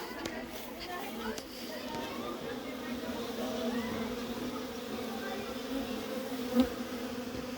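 A steady honeybee buzzing drones throughout during a hive transfer, a dense swarm hum with faint voices and movement in the background.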